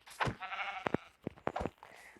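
Several short, nasal sheep bleats from Minecraft come one after another over a faint background, with gaps between the calls.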